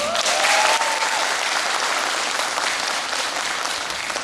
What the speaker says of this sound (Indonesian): Berikan aplaus untuk Bapak Ibu semuanya.